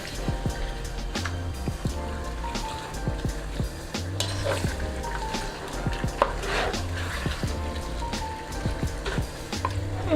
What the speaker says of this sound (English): So I'm just gonna give it a stir.